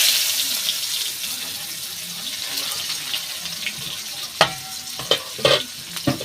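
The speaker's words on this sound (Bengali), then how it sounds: "পেঁয়াজটা একটু বেশ লাল লাল করে ভেজে নেব" Chopped onions fry in a pan with oil, whole cumin, cardamom, cinnamon and bay leaves, giving a steady close sizzle, then several sharp clattering stirs and scrapes toward the end, with no talking.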